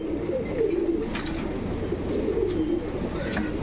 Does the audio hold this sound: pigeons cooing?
yes